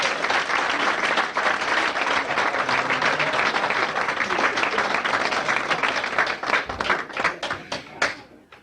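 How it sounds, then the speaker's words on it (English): An audience at a 1980 comedy club show breaks into loud, dense applause for a comedian. The clapping carries steadily for several seconds, then thins to scattered claps as it dies away. "Let's have a big round of applause for Irv Burton."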